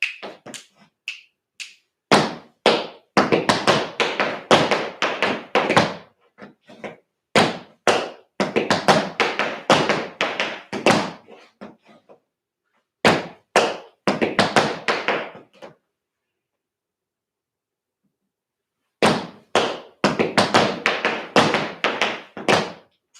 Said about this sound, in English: So you're going to go stomp and then scuff again with the right foot.